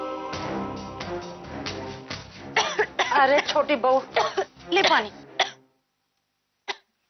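A young daughter-in-law coughs and clears her throat in a household scene. Rough bursts come in the first few seconds, and other voices speak close by.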